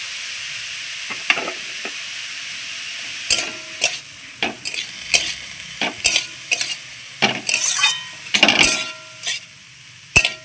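Banana blossom (thor) frying in a pan and being stirred, sharp scraping strokes of a spatula in irregular bursts over a soft underlying sizzle, close and loud with no talk.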